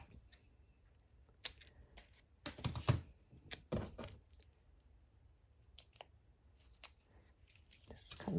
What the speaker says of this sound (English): Just cut another strip.